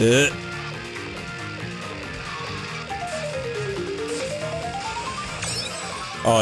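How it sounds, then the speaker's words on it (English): Tonal music notes ring out while karts drive over the Music Park track in Mario Kart 7, a rising and falling sequence of pitched tones over game music, with a person talking over it. "it make music note when you drive over it"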